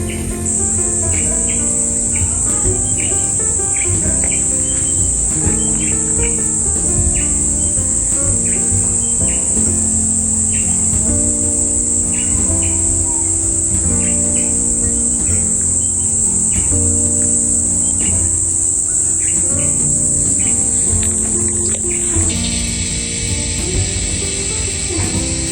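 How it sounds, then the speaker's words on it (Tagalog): Crickets drone loudly and continuously among trees, with faint bird calls scattered underneath the steady insect chorus. "Tapos naririnig mo yung mga huni ng ibon."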